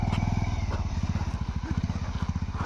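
Nepali motorcycle with a worn side bearing running on its stand, a close, rapid rhythmic low thumping and clatter with a steady pulse throughout.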